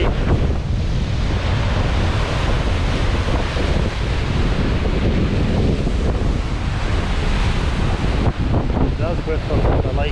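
Strong wind buffets the microphone while Lake Huron waves break continuously on the shore, a loud, steady roar with someone speaking briefly over it.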